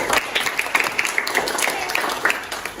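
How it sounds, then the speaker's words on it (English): Classroom applause during a micro-teaching lesson, a steady patter of many hands clapping together for a few seconds at moderate loudness, with no voices over it. "Give applause for Agung."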